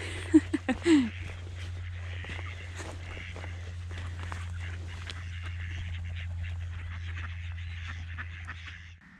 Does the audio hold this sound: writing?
no